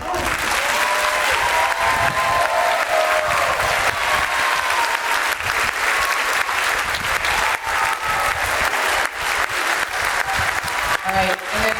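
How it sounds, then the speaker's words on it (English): An audience at a school band concert claps steadily for the students, a dense, continuous wash of many hands that stays loud and even for the whole stretch, with a few voices mixed in. "Please give these students a round of applause."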